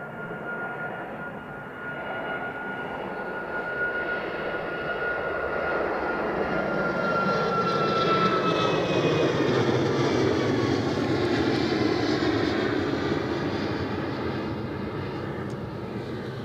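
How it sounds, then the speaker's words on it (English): Delta airliner inbound from Boston landing at Edinburgh Airport on a morning approach, a steady jet roar that swells through the middle as it passes close, then holds loud without voices. "We'll have to get straight on the inbound Delta aircraft inbound from Boston."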